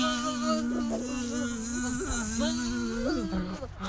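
Children and adults imitate buzzing bees together in a group game, a steady droning hum of voices held for about four seconds with slight rises and wobbles.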